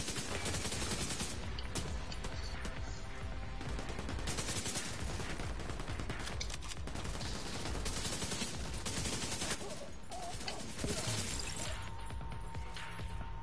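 Sustained, loud automatic machine gun fire in Tom Clancy's The Division 2, in the Hugh Carey Tunnel, with dense, rapid bursts and clattering impacts running without a break.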